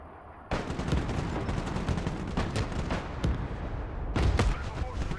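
Gunfire in the war game Broken Arrow, with rapid volleys of shots and heavy booms rolling continuously at close range beneath radio-style unit voice lines.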